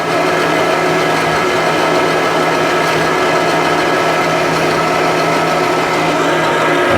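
A power saw blade cuts through metal with a steady, continuous high whine and grinding hiss, loud and close, with no talking.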